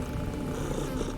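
A cat purrs in the video game Underrail, a steady low rumble held close and continuous for about a second with no other sounds.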